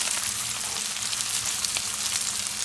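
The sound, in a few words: potatoes, onions and green peppers frying in a pan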